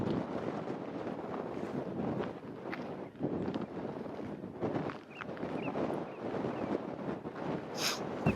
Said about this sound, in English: you can hear the wind pretty well